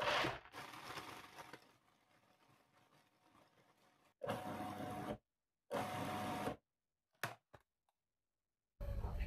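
Food processor grinding chocolate-raspberry cake base ingredients to a coarse crumb: an opening whir, then a quiet gap, followed by three short loud bursts of pulsed grinding separated by silences and a final burst starting at the end.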